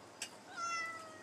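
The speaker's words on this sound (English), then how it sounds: "Shush, kitten." A pet kitten lets out a single short, bright meow close by, with a faint second mew trailing after it in a quiet room.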